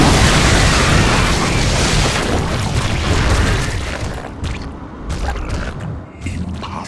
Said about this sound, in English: The transport has been destroyed.